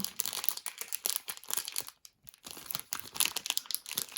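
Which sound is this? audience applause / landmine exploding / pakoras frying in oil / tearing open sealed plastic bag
tearing open sealed plastic bag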